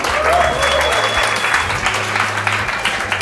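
A Science Slam audience claps steadily and loudly throughout, a dense burst of applause that stays even from start to finish.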